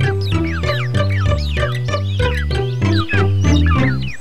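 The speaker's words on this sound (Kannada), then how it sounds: "ಅರೆ, ಶಬ್ದ ಬರ್ತಿರೋದು ಕೋಳಿ ಗೂಡಿಂದ ಅಲ್ವಾ?" Animated chickens and chicks cluck and peep from a coop in a cartoon, a busy string of bright chirping calls layered over loud, rhythmic background music.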